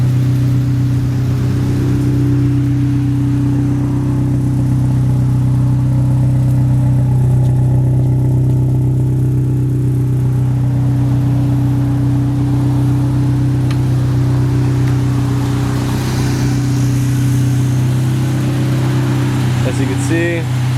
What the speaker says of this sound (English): I just wanted to throw this in the clip to show you how the car's running after I installed the O2 sensors